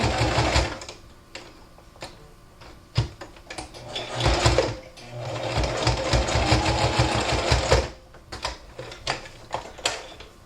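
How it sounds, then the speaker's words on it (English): A sewing machine runs close by, stitching elastic onto the seam of a cotton face mask. Short rattling bursts of needle action are broken by clicks and pauses, and a longer steady run of stitching sits in the middle. "I do stitch it right along that previous seam"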